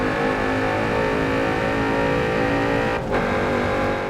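Porsche engine in the Forza Motorsport 7 drag racing game, droning steadily at high revs, with a brief dip at a hesitant gear shift before the note resumes, loud and close throughout.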